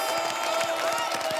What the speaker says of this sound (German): Einen riesigen Applaus für die